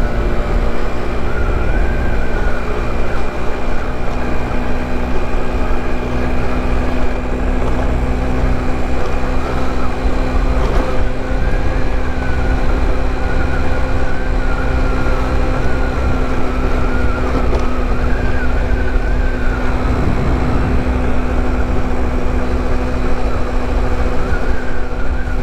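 A GY6 50cc Boom scooter drones on an evening ride, a loud, steady engine buzz held at an even pitch for the whole stretch, with rushing road noise underneath.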